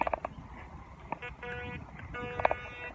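A Bounty Hunter TX4 metal detector sweeps over a metal target near a boat on the water, giving several short, faint electronic buzzes and tones over low ambient noise outdoors.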